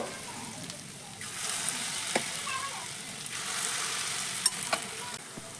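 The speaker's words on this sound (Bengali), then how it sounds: "তেলটা এখানে গরম হয়ে গেছে এবার একে একে টিফিনগুলো তেলের মধ্যে আমি বসিয়ে দেব" Semolina tiffin snacks drop into hot oil and fry with a soft, steady sizzle that swells as more pieces go in. A few faint clicks and taps sound over the bubbling.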